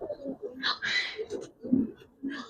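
A Giribaz pigeon, a male with clipped wings, coos in low, throaty bursts that rise and fall in a few short phrases, close by and moderately loud.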